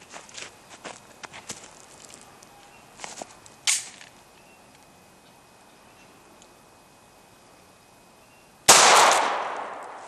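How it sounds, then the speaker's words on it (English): A CZ82 pistol fires a single 9mm Makarov round into ballistic gel, a sudden loud sharp crack with a ringing decay, after several seconds of quiet handling clicks and faint clanks. "I'm going to be shooting this today out of my CZ82"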